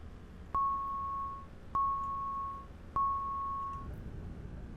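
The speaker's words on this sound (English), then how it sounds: "don't know what that beeping noise was" Three electronic beeps at an even pace in the American Truck Simulator video game, a Scania truck, each a sustained mid-pitched tone of about a second, over a low steady hum.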